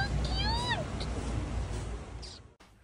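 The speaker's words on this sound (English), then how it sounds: "The cats also seem to be quite friendly." Cat meowing on a street in Turkey, a few short rising-falling meows close by over steady outdoor background noise.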